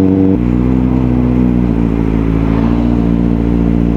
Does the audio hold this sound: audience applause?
no